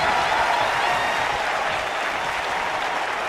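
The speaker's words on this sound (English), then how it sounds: "Steiner drawing a big reaction from the crowd." Applause and cheering from a wrestling crowd in WWE 2K25 react to Steiner, holding a loud, steady roar for about three seconds with no talk over it.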